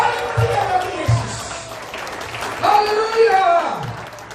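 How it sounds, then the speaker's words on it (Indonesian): Church congregation applauding for Jesus during a sermon, with steady clapping from a crowd mixed with voices and shouts rising and falling over several seconds. "Yang percaya berikan tepuk tangan yang paling meriah bagi Yesus."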